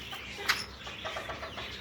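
Backyard chickens kept among aviaries of pigeons and parrots cluck softly and intermittently, with one sharper squawk standing out near the start against a low, steady background.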